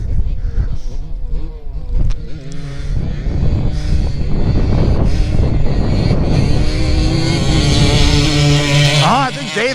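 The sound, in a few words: motorcycles racing, one with FTZ exhaust pipe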